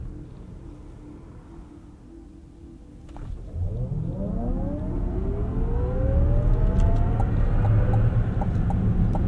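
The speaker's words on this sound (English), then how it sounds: "we'll do a short acceleration test here too" A 2024 Chevrolet Blazer EV RS AWD accelerates hard from a quiet cruise, its electric motor whine climbing steadily in pitch over a swelling rumble of road and tyre noise heard from inside the cabin.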